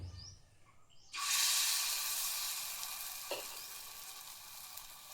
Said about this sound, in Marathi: आता गरम झाले तेल, आता टाकूया, कसे होत्यात बघूया आपले आप्पे।